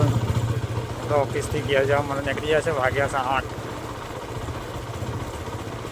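A motorcycle engine runs steadily through the whole stretch with a low, continuous drone while someone talks over it for the first few seconds, then the engine continues alone at moderate loudness.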